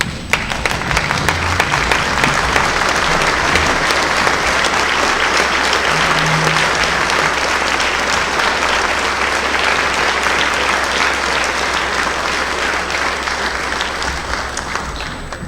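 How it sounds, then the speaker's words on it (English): A sports awards banquet crowd gives sustained applause to the players' fathers, thick even clapping filling the room at a steady level from start to finish. "let's please stand and give these men a round of applause"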